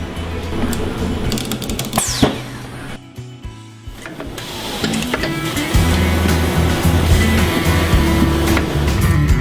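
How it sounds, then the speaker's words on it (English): Fabric testing machine in a furniture factory pulling a seam slippage sample until the fabric breaks: loud continuous mechanical hum and grinding with a rising whine and a sharp crack near two seconds, then steady machine drone. "This test measures the seam slippage and is conducted on our fabric testing machine."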